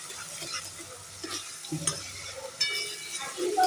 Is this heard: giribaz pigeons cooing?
no